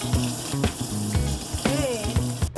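Fermented fish (som pa) fries in hot oil with a loud, continuous close-up sizzle and crackle, punctuated by occasional stirring knocks.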